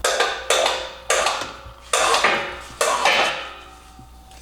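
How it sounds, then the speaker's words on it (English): Sharp rubber-hammer taps on parts of a buggy being built, five or six distinct hits spaced about half a second to a second apart, each ringing briefly with a metallic tail, close and loud with no talking. "Tap it with the rubber hammer."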